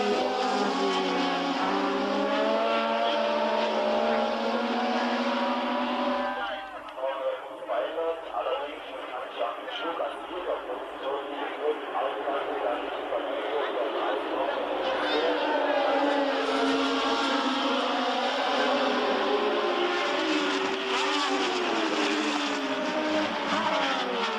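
Formula 1 race cars screaming around the circuit at the 1977 German Grand Prix, a continuous high engine howl from a broadcast track feed under constant commentary.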